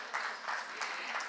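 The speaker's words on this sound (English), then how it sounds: "Please give him a huge round of applause for that." A summit audience claps in a steady wash of applause heard from within the hall, moderately loud and continuous, with a few swells in intensity.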